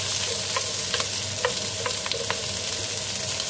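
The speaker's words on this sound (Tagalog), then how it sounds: "Next naman, ang ating sibuyas na igigisa ulit." Onion and garlic sautéing in a pan, a steady close sizzle with light stirring clicks and scrapes scattered throughout, no voices.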